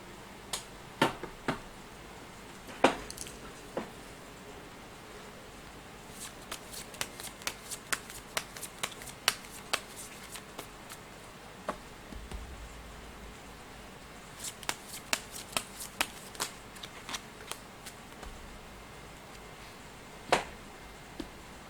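Fortune-telling cards being shuffled by hand, close and crisp, with repeated rapid bursts of riffling and flicking clicks across a long stretch, separated by short pauses and quieter handling.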